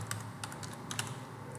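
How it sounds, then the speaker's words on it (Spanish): Two keys pressed together, Ctrl and the space bar, on a computer keyboard during a LabVIEW tutorial: a few faint, close clicks and taps spread over under two seconds against low room hum, with no talk. "le damos control y barra espaciadora"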